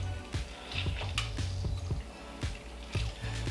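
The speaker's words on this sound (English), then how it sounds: "So I'm just going to squeeze these lemons" Wet, squelching squeezes of lemons pressed by hand repeat in a loose rhythm over a low steady hum, with faint drips and splashes of juice between presses.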